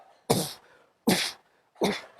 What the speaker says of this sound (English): take in deep breath and cough it out